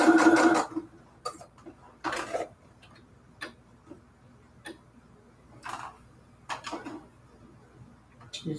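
A sewing machine runs in short separate bursts, switching between zigzag and straight stitching on junk journal pages, with quiet gaps between each run of fast ticking stitches.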